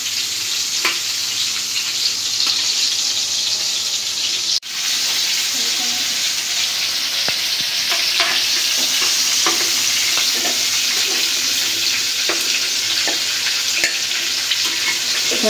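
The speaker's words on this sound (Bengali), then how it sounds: "হালকা করে ভাজা নেব।" Fish frying in oil in a pan, a loud continuous close sizzle with occasional spatters and stirring clicks, one short break partway through and faint talk underneath.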